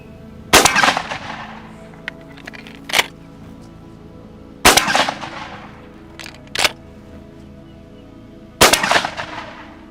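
Several Benelli shotgun shots fired at a pattern board ring out as sharp, loud blasts a few seconds apart, each with a short echoing tail and softer cracks in between.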